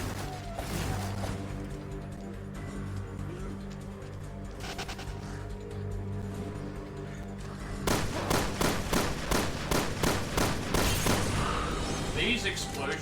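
Explosions and gunfire in the game Resident Evil Revelations 2, a series of booming blasts and rapid thuds over steady game music, growing denser and louder partway through.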